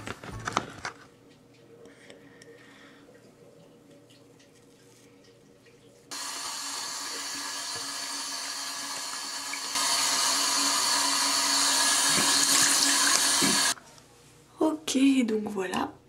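A bathroom tap runs to rinse off a face mask, a broad steady rush of water that starts partway in, grows louder, then stops, with quieter handling sounds before and after.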